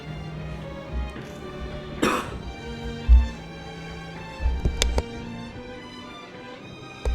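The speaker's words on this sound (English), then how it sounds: "Sorry, I had a cough." A single sharp cough bursts out against a quiet background, followed by a few soft clicks and faint handling noises.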